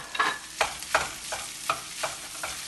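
Ramen noodles stir-frying in a pan, a soft sizzle broken by about seven regular spatula strokes that scrape and hiss at an even rhythm.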